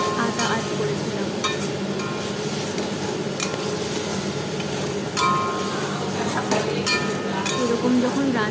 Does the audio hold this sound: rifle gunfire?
no